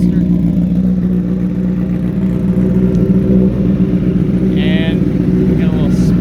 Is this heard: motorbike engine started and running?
yes